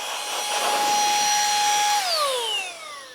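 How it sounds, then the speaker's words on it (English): A small air blower blasts mother-of-pearl dust off a guitar body while plugging post holes and fitting inlays, a steady loud whine that drops in pitch as the motor winds down near the end. "using this cool blower here"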